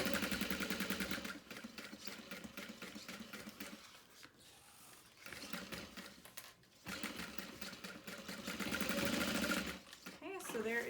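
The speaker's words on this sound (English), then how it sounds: "I just back stitched at the start and the end" Sewing machine stitching a seam on a bag, in fast rattling bursts with short pauses between runs, loud and close, the needle speeding up and stopping as it reverses for back stitches.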